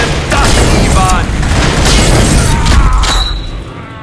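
A grenade explosion in a PC video game, heavy booming rumble with crackling debris and layered blasts, loud and sustained before fading, with shouted voices mixed into the din.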